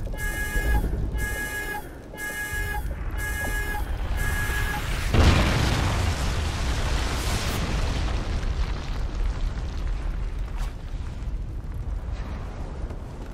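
A KEM strike in Call of Duty: Ghosts: repeated electronic warning beeps give way to a huge explosion, followed by a long rumbling roar that slowly fades, with no voices.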